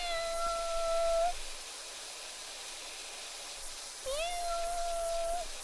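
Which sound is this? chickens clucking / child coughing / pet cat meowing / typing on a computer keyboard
pet cat meowing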